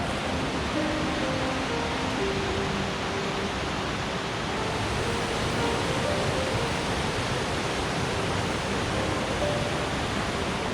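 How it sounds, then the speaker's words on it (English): Waterfalls cascading at Cedar Falls Park in South Carolina, a steady, dense rushing roar of falling water that holds an even level throughout with no voices. "How do you like those falls, Deanna?"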